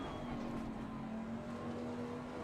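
A race car in Assetto Corsa Competizione on the Barcelona circuit comes back on the power, its engine holding a steady, loud drone with a strong low tone throughout.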